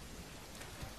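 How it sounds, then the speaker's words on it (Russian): Rain falling in the survival video game The Forest, a dense, even hiss of rainfall with a couple of slightly louder drop spatters, steady and brief. "Дождь уже идет вовсю."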